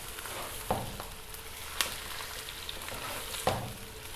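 Chicken sizzles steadily in a hot pan for biryani, with a few sharp clicks and scrapes of stirring over the continuous frying hiss.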